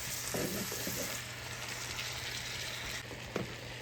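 Drained canned corn in a pot gives off a quiet steady hiss with a few soft spoon scrapes and one small knock near the end, heard close but faint, no talking.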